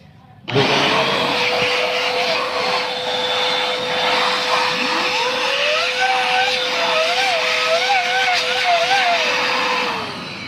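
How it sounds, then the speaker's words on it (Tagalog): A loud electric blower roars steadily with a droning whine, blowing dust out of a power inverter, running continuously for several seconds after starting abruptly. "Bubugahan lang natin siya ng blower."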